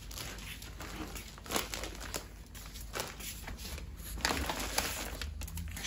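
A plastic shopping bag from a store crinkles and rustles up close, in irregular bursts of crackling handling with small louder crunches, with no voices.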